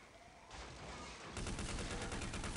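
Rapid automatic gunfire in Counter-Strike: Deleted Scenes, with a dense burst that grows louder and more intense partway through and continues as a sustained rattling fusillade.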